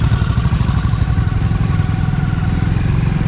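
A motorcycle engine labours continuously on a steep mountain road in India's Spiti Valley, a loud, steady low throbbing drone with light rattling throughout.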